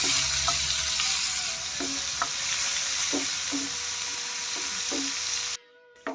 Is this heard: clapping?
no